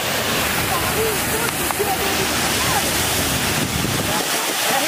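Water in a motor-driven fountain inside a shopping mall rushes and splashes in a steady, broad wash, with a crowd murmur and occasional voices mixed in beneath.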